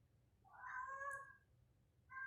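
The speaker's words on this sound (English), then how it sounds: "Sorry for my cats yowling in the background." A house cat yowls in a long, rising, drawn-out call that fades, then starts another, heard alone and fairly quiet in an indoor room.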